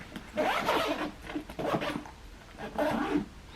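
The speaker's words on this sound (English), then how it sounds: "I'll just zip this so nothing falls out." A backpack pocket zipper pulled closed in a few quick rasping strokes, close and fairly quiet, with no talking.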